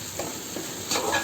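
Fried taro pieces stirred in a cooking pan, a quick scrape of the spatula over a soft, steady sizzle, close and short.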